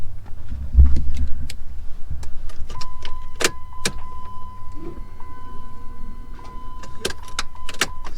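Priming the fuel pump of a Dodge Neon SRT4 fitted with custom fuel lines: a few sharp clicks, then a thin, steady electric pump whine that hums for several seconds before fading, with more clicks and small clunks nearby.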